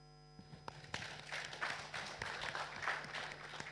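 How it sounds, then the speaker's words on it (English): Panel discussion audience bursts into applause, faint at first and then a sustained patter of many hands clapping at moderate distance, with a steady electrical hum underneath. "Ladies and gentlemen, a round of applause for our panelists."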